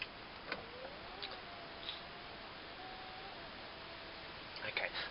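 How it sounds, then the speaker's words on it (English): Inside a BMW X5 E53, the power windows close with a faint, steady electric motor whine lasting a few seconds, with a few soft clicks around it in a quiet cabin. "I'm just going to put the windows up"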